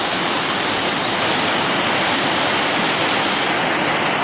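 The Salmon River near Stanley, Idaho, rushes over a pour-over rock, a loud, steady, close roar of whitewater that continues without a break and carries no voices.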